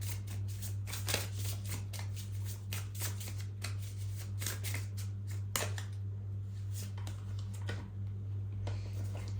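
Playing or tarot cards being shuffled in repeated quick riffling bursts, crisp and close, over a steady low electrical hum.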